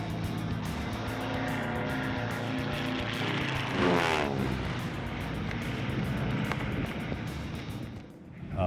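A nearly stock Cassutt 3M racing airplane drones steadily, its engine swelling into a louder pass about midway and then dropping away, with no voices.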